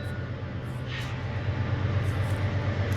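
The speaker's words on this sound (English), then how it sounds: "There's the train. Gotta love a good train" A slow-moving train passes nearby, a continuous low rumble and rolling drone with faint higher rattles above it, steady and fairly loud throughout.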